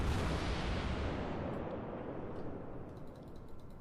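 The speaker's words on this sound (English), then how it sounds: "I'm gonna set him on fire." Heavy naval gunfire from a warship in World of Warships, a loud broadband boom that rolls off slowly over several seconds, with no talk over it.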